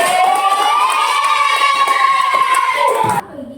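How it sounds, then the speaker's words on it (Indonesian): Classroom clapping for a student named Sabrina during a teaching practice session, faint rhythmic hand claps under a loud steady ringing tone that cuts off abruptly near the end. "kasih dulu tepuk tangan untuk Sabrina"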